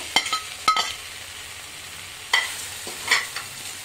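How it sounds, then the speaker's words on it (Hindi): Fried potatoes being stirred into honey chilli sauce in a pan, giving a few scattered scraping and sizzling bursts of stirring, close and moderately loud, with no talking. "इन्हें अच्छी तरह से मिक्स कर लेती हूँ"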